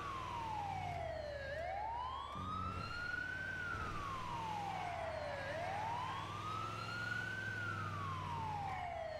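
An ambulance siren in a video game roleplay sweeps slowly up and down in a long, continuous wail, loud and close, with an engine rumble underneath and no talking.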